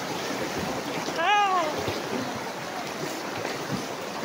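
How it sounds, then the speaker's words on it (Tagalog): A river current flows continuously at a free swimming spot, a broad steady rush of water, with a brief voice call rising over it near the start. "mag-i-enjoy ka pa sa agos ng tubig"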